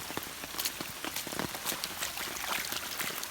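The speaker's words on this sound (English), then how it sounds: "Just a little stream flowing through here." Floodwater running as a small stream through backyard grass, making a continuous bright trickling and babbling with scattered droplet splashes, close up and steady throughout.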